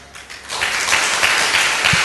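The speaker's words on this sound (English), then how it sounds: "when you all clapped your hands" A church night vigil audience claps hands together in a broad, sustained burst that swells after a brief quieter start and stays loud and dense throughout.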